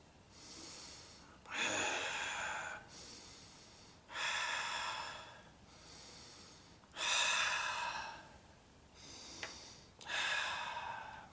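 Exaggerated, theatrical breaths for animating a hand puppet in a drama lesson: five loud, airy inhale and exhale bursts about every two to three seconds, close and clear, with short quiet gaps between them.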